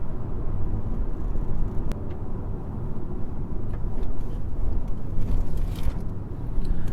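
A 2013 VW Jetta Hybrid cruises along a bumpy back road, a steady low rumble of road and tire noise filling the cabin with a few faint knocks over the bumps.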